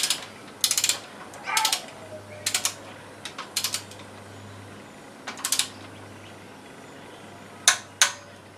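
A torque wrench ratchets while tightening the rocker gear on a Triumph 2500 MK I engine: short bursts of close, crisp clicking come in irregular groups over a low steady hum.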